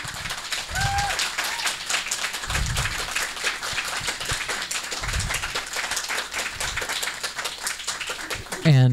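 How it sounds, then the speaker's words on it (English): Applause from an audience at a political candidates' forum for state representative, a continuous patter of clapping with some speech-like sounds mixed in, fairly even in level. "Let's give them a round of applause."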